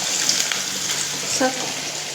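Kabab pieces frying in hot oil in a home kitchen, a steady broad sizzling hiss that runs throughout, with a brief voice heard partway through.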